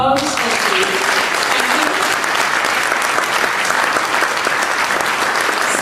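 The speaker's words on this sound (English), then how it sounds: "Can I have a round of applause?" Audience applause at a port signing ceremony for a sister seaports agreement, a dense steady burst of many hands clapping throughout, loud and close, with no talk over it.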